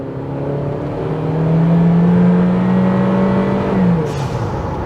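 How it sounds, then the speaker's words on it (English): A tuned Honda CR-V 2WD Touring with a 1.5 turbo engine accelerates, its engine note rising and holding as revs climb, then dropping off near the end; loud and close, no talking. "it's a modern turbo engine. It doesn't necessarily sound all that great, but it goes good."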